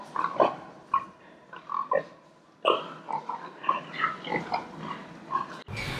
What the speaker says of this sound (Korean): Where we can see around us some of our genome edited pigs.